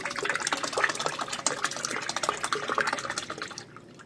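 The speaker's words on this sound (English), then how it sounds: "you just take and pour that right in there" Iced coffee pours steadily into a cup with a bubbling, splashing trickle that gradually tapers off and stops near the end.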